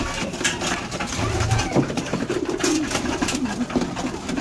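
Pigeons coo repeatedly in soft, rolling calls close by, layered over a steady background hum with no talking.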